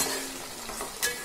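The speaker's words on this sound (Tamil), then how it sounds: "சேர்த்துக்கிட்டு நல்லா கலந்து விட்டுருங்க, நல்லா வதங்க விடுங்க." Onions, green chillies and tomatoes sautéing in a pan for mushroom biryani give a steady close sizzle with a brief louder burst of stirring near the end.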